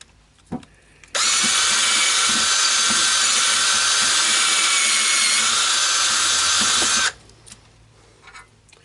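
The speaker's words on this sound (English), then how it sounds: "I'm going to cut it first on the bandsaw" Bandsaw cutting a block of olivewood: a loud, steady whining cut starts abruptly, holds for about six seconds, then stops, with brief workshop knocks before and after.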